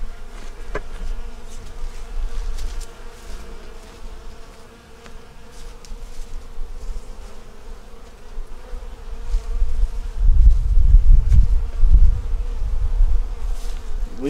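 Honey bees hum and buzz steadily from an opened small nucleus hive during an inspection, close and continuous, with low wind rumble growing stronger near the end.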